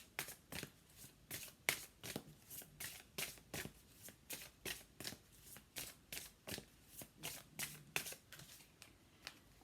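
Tarot cards being shuffled by hand during a love reading, a steady run of crisp riffling snaps repeating roughly every half second, close and clear with no talking.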